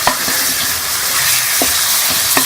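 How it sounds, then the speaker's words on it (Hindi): Chicken pieces for a chicken jalfrezi karahi fry in a pan, a steady sizzle running throughout while a utensil scrapes and stirs in a few sharp clicks, close and fairly loud. "फ्राई कर लेंगे"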